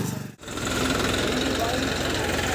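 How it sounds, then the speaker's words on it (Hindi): A Massey Ferguson 1035 40 HP tractor hauling a loaded trolley gives a steady, loud diesel engine drone with a rhythmic knock, broken by one brief dip early on and otherwise continuous. "ट्रॉली को लेके जब चला है ट्रैक्टर तो आराम से चल दिया है"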